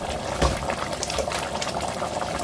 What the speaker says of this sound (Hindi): अब हम यहाँ पर इसमें पानी डाल के इसको गलाने के लिए रखेंगे।